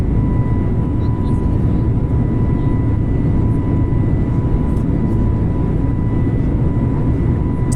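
Steady, dense airliner engine roar of an Airbus A320neo climbing out of Mexico City in Microsoft Flight Simulator, a continuous loud broadband drone with a faint high whine held throughout, no talk.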